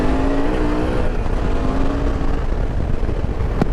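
A Suzuki V-Strom 650cc motorcycle with a six-speed transmission rides along the road, its engine droning loudly and steadily under heavy wind rush, with a brief rising note early on.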